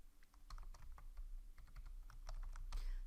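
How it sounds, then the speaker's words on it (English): Typing on a computer keyboard while searching client records in deal-workflow software: irregular close key clicks across the whole stretch, ending in a louder cluster of strokes, with no talk. "Type in the client's name and there you will find the results"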